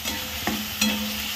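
Masala mixed with a blended puree fries in a pan, a steady close sizzle with two quick scraping stirs of a spoon against the pan partway through.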